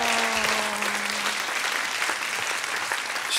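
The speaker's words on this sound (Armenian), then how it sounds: "բարձր ծափարություններ" Loud, sustained audience applause fills a televised masked-singer show studio in Armenia after Mr. Penguin's song, with a fading musical tone at the start and dense clapping continuing to the end.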